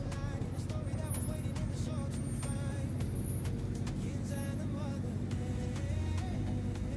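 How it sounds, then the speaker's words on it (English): A loud car approaches on a farm road during the dry season, its engine rumble steady and close beneath a busy mix of outdoor sounds, with no clear talking. "With the loud car."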